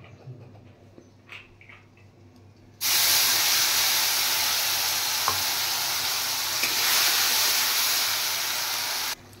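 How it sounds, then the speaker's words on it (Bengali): Garlic, ginger and green chili paste drops into hot oil already holding dried red chilies, bay leaves and cumin for an egg curry, bursting into a loud, steady sizzle that hisses on close-up without pause. "এবার দিয়ে দিচ্ছি এখানে পেস্ট করে রাখা রসুন,"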